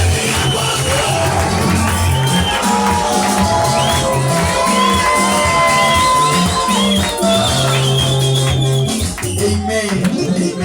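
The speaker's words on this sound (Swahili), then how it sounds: "Bwana pigia Yesu makofi mazuri" A church congregation at a night vigil at The Lord's Glory Worship Center in Kawangware cheers, whoops and claps loudly for Jesus, with a dense crowd roar and music underneath throughout.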